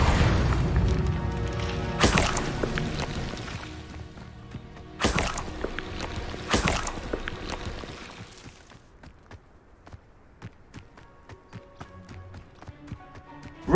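An Incendio fire spell in Hogwarts Legacy goes off as several loud, sudden booming blasts spaced a few seconds apart, over footsteps and game ambience, then fades to quieter tapping and soft musical tones.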